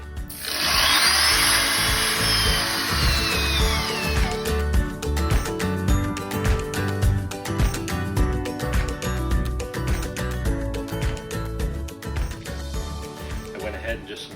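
A power drill with a special stepped bit runs steadily while boring pocket holes into wood through a pocket hole jig, a continuous close whine and grinding buzz lasting throughout with no talk over it.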